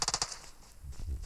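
A quick, close burst of automatic gunfire from a solo-versus-squad shooter video game, four or five rapid cracks at the start, followed by quieter low game sounds.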